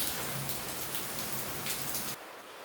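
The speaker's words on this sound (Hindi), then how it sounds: "देखा आप लोगों ने बारिश कितनी हो रही है।" Heavy rain pours down steadily as a dense, even hiss that fills the scene, then cuts off abruptly near the end, leaving only a faint remnant.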